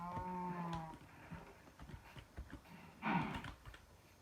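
A Minecraft cow gives one clear, drawn-out moo at the start, followed by scattered soft clicks of keyboard typing and a brief rustling burst near the end.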